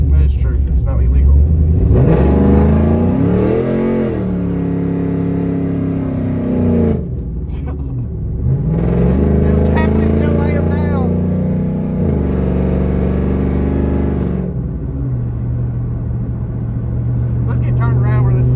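A built Chevrolet Camaro WS6 pulls hard from a 30 mph roll, its engine loud and close, rising through the revs in repeated surges, shifting between them, with people talking over it.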